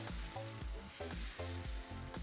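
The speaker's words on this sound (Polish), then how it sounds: "I teraz możemy zacząć smażyć." Crepe batter fries in a hot pan, giving a steady, close sizzle that runs throughout with no voices.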